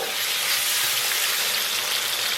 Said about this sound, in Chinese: 然后咱们给它炒出香味， 给它小火煸炒出红油